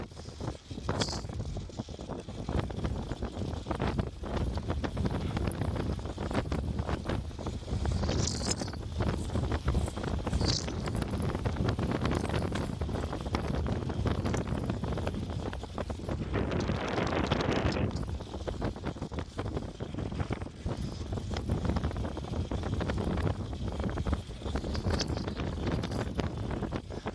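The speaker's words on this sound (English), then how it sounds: "It's windy again." Strong wind of around 40 mph roars steadily across an outdoor hillside, buffeting the microphone with loud, constant rumble and gusts for the whole stretch, with no talk over it.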